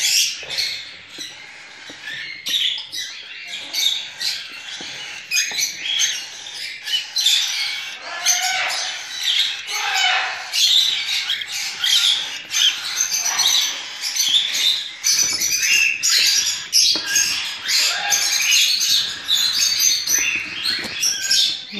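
Dense, continuous high-pitched squawking and chirping from several lovebird chicks close by, harsh and insistent throughout with no pauses.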